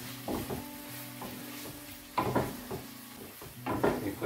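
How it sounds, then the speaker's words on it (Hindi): A spoon scrapes and stirs beef tongue curry ingredients in a pan with a light sizzle underneath, a few rhythmic strokes in quick clusters, close and moderately loud. "I just need to mix this."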